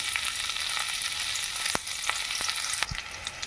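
Green chillies sizzle steadily in hot oil tempered with nigella seeds, a constant close hiss broken by a few sharp crackles and spatters.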